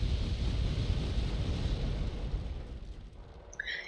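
Artillery fire in a strategy video game lands as a deep, rumbling blast that fills the first seconds and slowly fades, with no talking.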